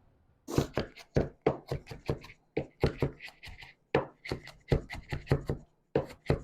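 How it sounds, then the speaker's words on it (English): A knife chops an onion on a cutting board in a quiet home kitchen, about two dozen crisp, close knocks in an uneven, steady rhythm with brief pauses between runs. "But while I cut up my onion"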